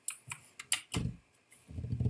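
A child types a word on a computer keyboard during a phonics and typing lesson, a few separate, hesitant key presses at close range, mixed with low handling thumps.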